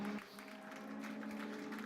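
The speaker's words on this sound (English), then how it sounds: "maybe a big round of applause for Kevin Sigi-Rebanak, who takes the pole position" An audience at a Mercedes-AMG Motorsport eRacing competition final applauds the driver taking pole position, a faint, steady patter of clapping from a crowd with a sustained tone running underneath.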